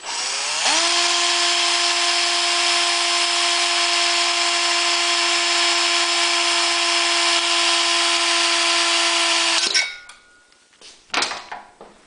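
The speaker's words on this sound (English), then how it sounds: "I'm going to take a drill with a 1/8 drill bit, and I'm going to drill a hole." A power drill with a 1/8-inch bit whirs loudly at a steady pitch for about nine seconds, then stops, followed by a few faint clicks and handling noises.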